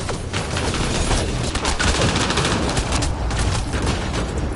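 Gunfire in Mass Effect Andromeda rattles nonstop in a thick, loud fusillade, overlapping rapid shots and blasts forming an unbroken wall of combat noise.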